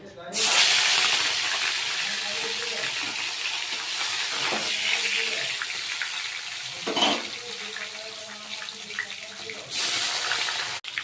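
Catla fish pieces rubbed with salt and turmeric fry in hot oil, giving a steady close sizzling hiss throughout with a few brief louder surges.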